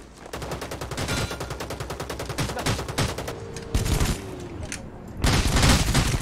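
Rapid bursts of pistol gunfire in the video game Rules of Survival, quick repeated shots in a steady rhythm with a few louder cracks, and faint voices in the background.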